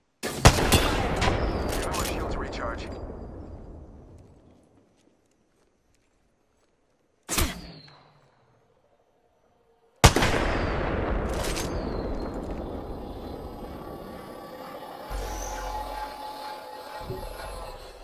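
Apex Legends gunfire on PS4 comes as loud, dense bursts of rapid shots with echoing tails. A short separate crack follows, then another long roaring volley with rumbling impacts.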